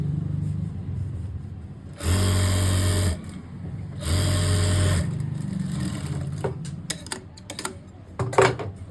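A sewing machine runs a rough tacking stitch along the fold of a simple suit in two short, loud bursts of rapid whirring, with quieter handling and clicking sounds in between.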